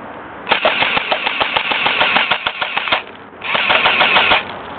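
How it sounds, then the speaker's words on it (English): An airsoft gun fires loud, rapid automatic bursts outdoors, a dense string of sharp cracks for about two and a half seconds, a brief pause, then another sustained burst. "Fun shooting an airsoft gun."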